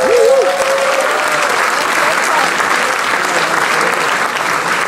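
An audience applauds at a blues festival concert in Basel: dense, loud, sustained clapping from a large crowd, with a short whistle near the start.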